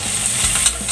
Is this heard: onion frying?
yes